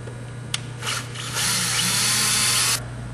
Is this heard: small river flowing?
no